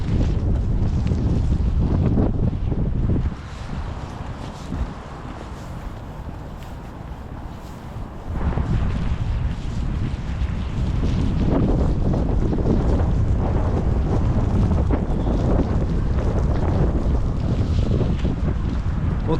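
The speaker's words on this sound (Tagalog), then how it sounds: "Hangin na may kasamang snow." Strong wind buffets the microphone with snow blowing along a roadside by a gas station in Canada, a loud steady roar with a quieter lull in the middle before gusting back hard.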